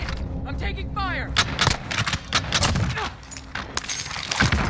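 Gunfire and explosive bursts in the video game Warzone, with dense sharp shots spread through a loud, busy game mix under voices and radio chatter.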